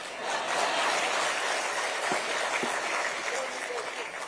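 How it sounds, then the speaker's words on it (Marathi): A crowd applauds Kalidasji at a BDD chawl redevelopment key-handover event in Mumbai, with steady, dense clapping that holds at a moderate level for about four seconds. "पण सर्वात जास्त टाळ्या मात्र कालिदासजींना मिळाल्या"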